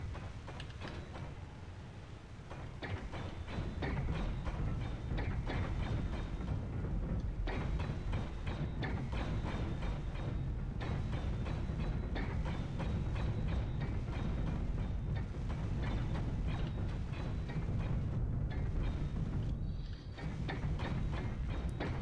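Steady mechanical clanging and ratcheting from ship printer welders in Space Engineers, a dense continuous metallic clatter with rapid repeated knocks, moderately loud and without speech.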